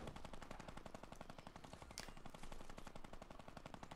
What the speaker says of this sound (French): Ça tire là-bas, mais je sais pas, ça tire où?